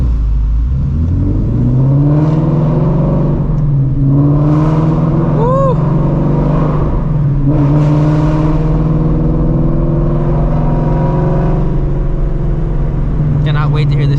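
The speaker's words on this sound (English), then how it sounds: "Cannot wait to hear this thing like in the city." A straight-piped Shelby GT350 cruises through city streets at night, its engine a loud, continuous low drone with rising and falling revs; someone talks over it.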